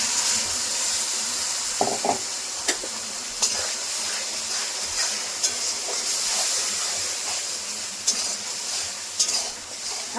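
Ground spice paste fries in oil in a pan over lightly fried, salted onion, giving a continuous close sizzle and hiss broken by sharp clicks of stirring; no voices.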